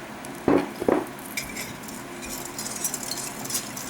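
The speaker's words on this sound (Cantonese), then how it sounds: "咁就先將佢稍為攪勻啲先啦" A utensil clinks and scrapes in a bowl while sugar and milk are stirred together, with two sharp knocks near the start followed by softer, intermittent scraping and tapping.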